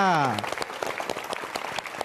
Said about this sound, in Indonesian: tepuk tangan dari Jogja